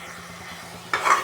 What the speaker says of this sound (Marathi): ह्या पेस्टला एकदम तेल सुटेपर्यंत आपल्याला आता हे असंच हलवायचं आहे